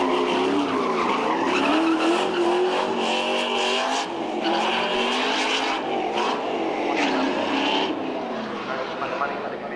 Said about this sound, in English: Konrad Scott's V8 powered Batwing Mazda RX-7 was not only a crowd pleaser, but a class winner.